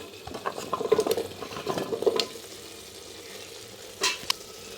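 Diced potatoes tipped into a pan of frying ginger, garlic and tomato for a Ramadan chickpea dish, with stirring scrapes and a soft sizzle in bursts over the first two seconds, then a quieter stretch and a brief clatter near the end.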